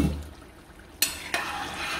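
Low, steady sizzling of tomato stew with beef stock frying in a pot, with two sharp scraping stirs breaking through partway.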